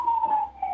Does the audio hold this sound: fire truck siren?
yes